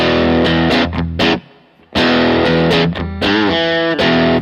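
Electric guitar chords through a Little Deuce Overdrive prototype pedal, boost stage into clipping stage, loud and sustained and distorted, with a brief drop to near silence in the middle before the crunchy playing resumes; no talking.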